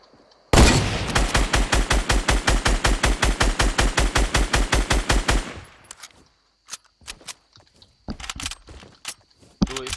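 Rapid automatic gunfire from the Fortnite video game rattles in one long steady burst of about five seconds, followed by scattered sharper single shots and clicks.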